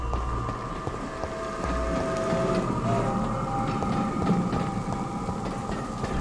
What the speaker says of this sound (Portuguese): Tô escutando barulho de trem.